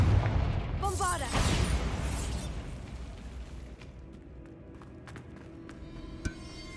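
A booming spell blast from Bombarda in the Hogwarts Legacy video game, a loud burst followed by a long rumbling decay with scattered debris pops, voiced game dialogue over it.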